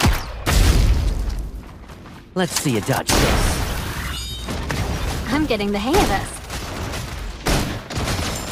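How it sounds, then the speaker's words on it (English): Bursts of gunfire and booming explosions in combat from the video game Love and Deepspace, loud and repeated, with characters talking over the action. "Requesting full suppression gunfire."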